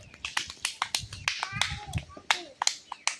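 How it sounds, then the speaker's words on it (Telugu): Children clapping for the winner of a running race, quick scattered claps close by, with children's voices talking over them. "క్లాప్స్ ఇవ్వండి"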